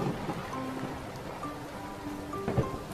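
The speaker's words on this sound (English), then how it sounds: "It's raining." Cartoon rain falls steadily on a truck's house in a children's construction-vehicle episode, a soft continuous patter with a few faint musical tones drifting over it and no talking.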